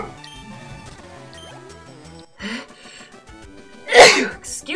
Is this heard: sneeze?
yes